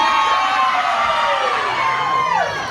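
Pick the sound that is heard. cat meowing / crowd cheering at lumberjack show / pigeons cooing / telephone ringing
crowd cheering at lumberjack show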